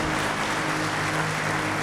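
Church congregation applauding together, a steady dense wash of clapping that runs the full length without a break and without talk.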